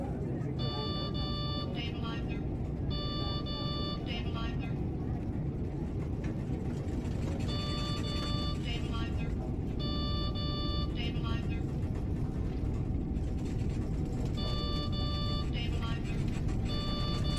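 Jet engines of an MD-11 airliner roar at full throttle during a takeoff roll in Microsoft Flight Simulator 2020, a steady, dense rumble with repeating electronic beep tones in bursts and a voice speaking beneath.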